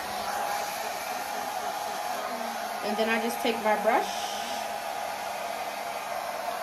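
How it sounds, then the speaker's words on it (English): Hair dryer running on a low setting, a steady, soft whooshing hum throughout, with someone speaking briefly over it partway through. "still had the blow dryer on"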